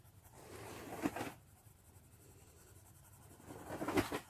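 Polychromos colored pencils shaded across paper to color hair, a faint close scratchy scribble with two louder strokes of pencil on paper.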